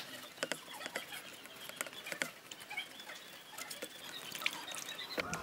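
An old toothbrush scrubbing the leaves of a moth orchid, heard as faint, irregular scratchy strokes and soft wet patters, close up.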